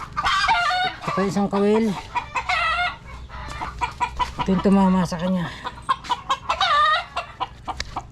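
Chickens cluck and a rooster crows loudly and close by, in repeated bursts over about eight seconds, while someone speaks Tagalog over them.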